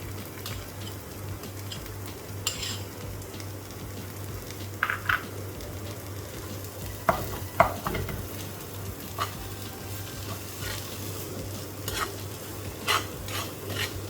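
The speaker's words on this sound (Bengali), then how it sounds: "মেয়োনেজটা মিশিয়ে দিচ্ছি" A spoon stirs homemade mayonnaise into freshly fried chicken for a sandwich, a soft continuous mixing with scattered sharp clicks and taps against the bowl, fairly close and without talk.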